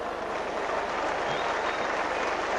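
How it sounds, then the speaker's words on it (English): A 1985–86 rugby league crowd at a Lancashire versus Yorkshire match roars and applauds, a steady wash of cheering and clapping from a large stadium audience heard at a distance, continuous throughout. "The crowd come to life."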